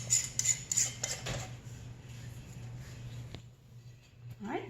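Metal canning rings clink and scrape against glass jars as they're screwed on finger tight while making peach scrap jelly, a few sharp metallic taps at the start and then softer, steady fiddling against a low kitchen hum.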